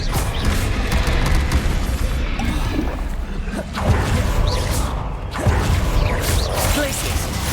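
Spell-casting in Hogwarts Legacy as Expelliarmus is fired off amid a dense, loud wash of magical whooshes, booms and impacts that runs continuously with a couple of sharper bursts.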